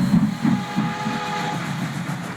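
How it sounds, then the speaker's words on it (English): A passenger train rolls along nearby with a rhythmic clickety-clack of wheels over rail joints and a steady rumbling drone underneath, continuous for a couple of seconds. "Kryssy was headed back to South Plainsville with a passenger train"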